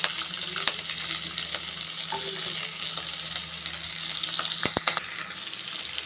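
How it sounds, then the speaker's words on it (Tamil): Chopped onion fries in hot oil with cumin and curry leaves, making a steady, close sizzle throughout. A couple of light utensil clinks break through near the end. "வெங்காயம் வந்து நல்லா வதங்கட்டும்"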